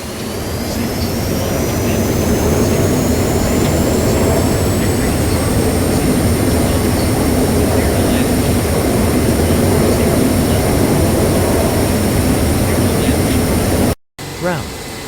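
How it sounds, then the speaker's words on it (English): A simulated jet airliner lands on runway 10 left at West Palm Beach in a flight simulator game, a loud, steady engine roar with a high whine throughout, and automated voice callouts sound over it before it cuts off abruptly. "Clear to land runway 10 left."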